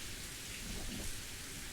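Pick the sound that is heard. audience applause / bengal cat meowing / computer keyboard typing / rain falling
rain falling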